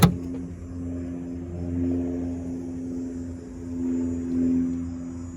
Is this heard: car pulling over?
yes